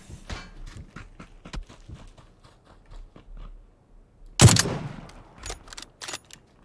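Enemy gunfire in the battle-royale shooter PUBG: a series of sharp, fairly distant shots in an irregular rhythm, with one loud close burst partway through, then further scattered shots.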